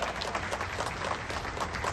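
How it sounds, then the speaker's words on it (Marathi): A crowd at a Shiv Sena political rally gives a burst of steady, dense applause, heard faint and somewhat distant for a couple of seconds. "तेव्हा सगळ्यांनी सर्वप्रथम यांच्यासाठी एक जोरदार टाळ्या"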